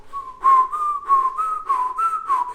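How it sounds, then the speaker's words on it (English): A person whistles by alternately sucking air in and blowing it out, producing a close, clear tone that wavers slightly in pitch and comes in a rhythmic series of pulses. "You can whistle by sucking in and blowing out."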